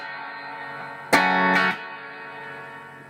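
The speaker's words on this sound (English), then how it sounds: "And the strumming is just going to be down, up, rest." Two quick guitar strums, a down then an up stroke on an effects-laden electric tone, ring out close over a sustained chord that fades away.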